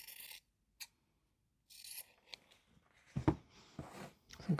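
Scissors snip fabric scraps to trim the base of a small stitched doll, a few quiet, close crisp cuts and rustles separated by short silences.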